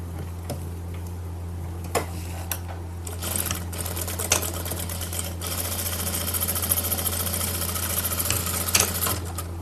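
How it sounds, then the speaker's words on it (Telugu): A sewing machine stitches a blouse sleeve with a steady, close mechanical whir and rapid needle clatter, running continuously with a few sharper knocks. "ఇప్పుడు మనం దీన్ని స్టిచ్ చేసేసుకుందాం"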